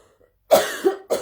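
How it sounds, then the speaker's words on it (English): A single sharp cough followed by a second shorter cough, close and loud against a quiet background. "It's a cough that drives me mad."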